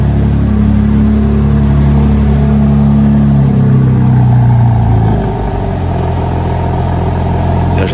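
A 2024 BMW M3 Competition engine holds a high, strained rev during cold start, then drops to a lower, steadier idle partway through. Loud and close, no talking.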